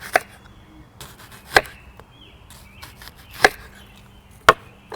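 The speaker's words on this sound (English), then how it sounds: "slice it in about an inch, maybe 1/2 inch slices so that we can make our onion rings" A knife cuts through an onion for onion rings, four sharp separate chops landing on a board about a second apart, with quiet handling noise between them.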